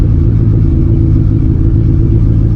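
A Honda Civic EF idles steadily right after its fuel connection was repaired, a loud, continuous low rumble with a slightly uneven engine throb, close by and with no one speaking.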